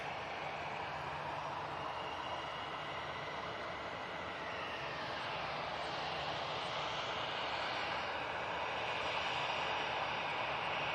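A Lufthansa airliner departs Manchester Airport, its engines a steady, wide, distant roar that stays even and unbroken throughout, with no voices.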